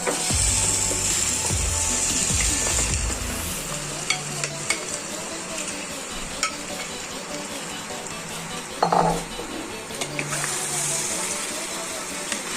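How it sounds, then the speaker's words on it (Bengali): Boiled mutton tipped into cooked-down spiced masala in a pot for rogan josh sets off a loud sizzle and stirring scrapes, then settles into softer frying with occasional metal clinks. "মশলাটি কষানো হয়েছে, সিদ্ধ করা মটনগুলো ঢেলে দিচ্ছি।"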